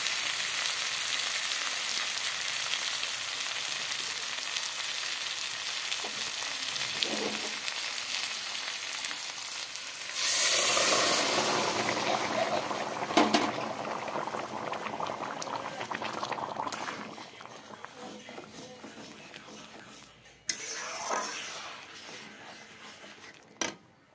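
Fried spice masala in a pan of curry for a katla fish, aloo and begun dish, with hot water added partway, giving a loud bubbling boil and hiss after a steady sizzle, with a few clatters near the end.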